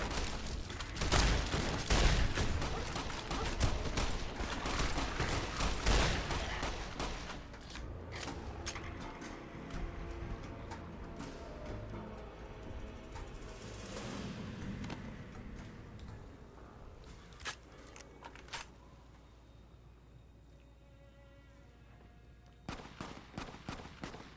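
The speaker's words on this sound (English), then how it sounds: "Now we can do the shotgun" Shotgun blasts in the video game Fallout New Vegas, several loud sharp booms at the start followed by quieter clicks, ticks and scattered softer shots over a low ambient background.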